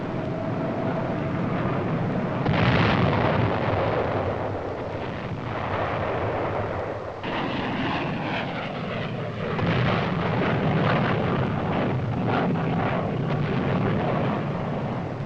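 An air strike directed by a forward air controller supporting the U.S. Army in 1968: loud continuous roar of aircraft with rumbling explosions and bursts, a sharp blast near the start and heavy booming layered throughout.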